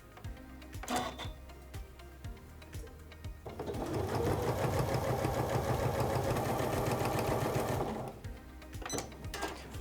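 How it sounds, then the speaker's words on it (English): A sewing machine fitted with an HP foot and plate stitches binding onto a quilt sandwich: soft clicks at first, then a loud, close, steady stitching run of several seconds before it slows back to quiet clicking. "I'm going to place my binding on top of my quilt sandwich, lower my foot, I'm going to get this thread out of the way, and now we're ready to sew"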